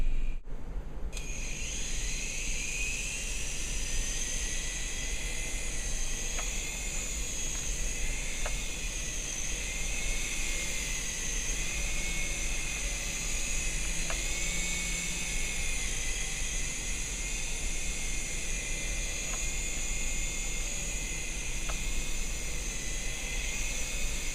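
A Syma S107 toy RC helicopter's small high-pitched motor whines steadily with a buzzing rotor hum, starting abruptly and running continuously at an even level, close by.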